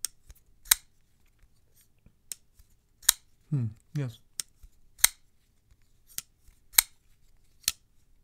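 A Bestech flipper knife snaps open and shut about a dozen times, each a sharp close metallic click spaced irregularly in near silence, with one brief spoken word in the middle.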